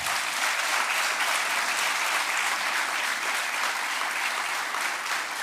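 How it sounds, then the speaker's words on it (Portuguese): Sustained applause from an audience at a municipal swearing-in ceremony in Freixo, greeting the newly installed Assembly President; dense, steady clapping holding at an even level throughout, with no voices rising above it. "Uma grande salva de palmas para ela."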